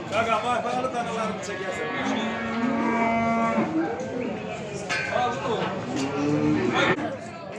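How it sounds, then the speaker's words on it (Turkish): Cattle and calves mooing at a livestock market, with loud, drawn-out moos from several animals close by, overlapping one another above background crowd chatter and talk. "Balalı maldan tutmuş, erkek dana, dişi dana hamısından var."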